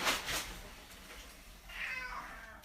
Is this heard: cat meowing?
yes